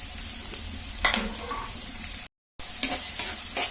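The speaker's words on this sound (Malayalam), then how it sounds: "പിന്നെ ഇതാ സവാള അരിഞ്ഞതും പച്ചമുളകും ഇത് നമുക്ക് ഇട്ട് ഒന്ന് വഴറ്റിയെടുക്കാം കേട്ടോ" Chopped onion and green chillies sautéing in a pan for green peas masala, a soft sizzle with a few stirring scrapes, broken by a brief silent gap.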